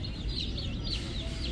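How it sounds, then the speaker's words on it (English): Young chicks crammed together in a brooder: a continuous, faint chorus of high peeping chirps over a low rumbling background. "Those cinnamons were crammed in there with all those chicks."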